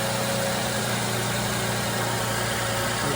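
A car engine runs at a steady idle during a battery tester check, a continuous close mechanical hum with faint vibration and no distinct cranking bursts, alone without talk.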